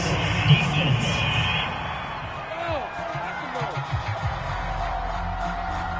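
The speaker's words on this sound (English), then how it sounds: "This home crowd, they're happy with that call." A stadium home crowd in the Madden 22 football video game roars and cheers a penalty call, a loud wash of noise that swells early and then settles, with commentators talking over it.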